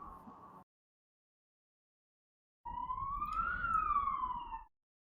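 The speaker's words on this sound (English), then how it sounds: "Man, you got some weird ambulances." An ambulance siren gives a short tone, falls silent for two seconds, then sounds a clean rising and falling wail that lasts about two seconds, heard alone.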